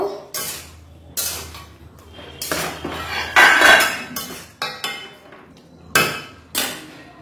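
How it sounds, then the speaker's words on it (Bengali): A metal lid comes off a cooking pot and ridge gourd paste is stirred inside, giving a series of sharp, close metallic clanks and scrapes at uneven intervals, with no speech. "এবার এটা ঢাকনা খুলে দেব। দেখো জল বেরিয়েছে, একটু নেড়ে চেড়ে দেব।"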